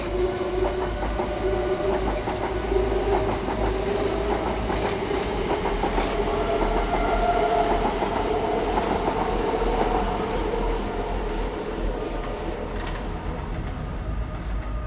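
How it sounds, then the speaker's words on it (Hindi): A train rolls past at a steady pace, with a continuous deep rumble and faint rhythmic clatter of wheels on track holding even for the whole stretch, set as an effect in a Hindi horror story, no voices. "ट्रेन के गुजरने के बाद एक शांति"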